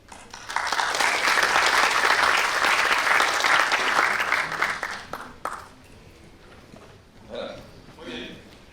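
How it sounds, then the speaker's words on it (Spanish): Crowd applause welcoming ambassador Herman Ideman at a mobility-of-the-future presentation, loud and dense for about five seconds, then tapering off into quieter room sound with a few brief voices. "quiero ahora recibir con un gran aplauso al embajador Herman Ideman"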